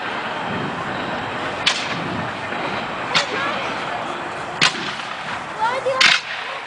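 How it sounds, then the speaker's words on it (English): At a Revolutionary War battle reenactment, four sharp, booming reports ring out one by one about every second and a half, heard at a distance over a steady outdoor background with muffled crowd noise. "Here comes the artillery coming up for one more shot."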